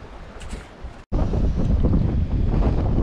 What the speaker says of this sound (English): Well, the wind's picked up very strongly.